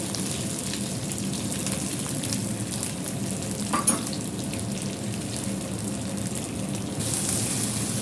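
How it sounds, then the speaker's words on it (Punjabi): Ingredients frying in well-heated oil in a pan, a loud, continuous close sizzle with stirring scrapes throughout and one brief clatter partway, no voices. "ਤੇਲ ਆਪਾਂ ਚੰਗੀ ਤਰ੍ਹਾਂ ਸਾੜ ਲਿਆ ਠੀਕ ਹੈ ਵਿੱਚ ਪਾ ਦਿੰਦੇ"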